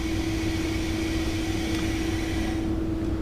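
A lab vacuum pump runs on a filter rig used for water quality filtration, giving a steady, unbroken mechanical drone with a constant hum and no speech.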